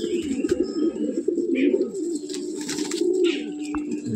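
An old-generation Giribaj pigeon coos close by, with soft repeated throaty notes and a couple of brighter chirps, and no talking over it.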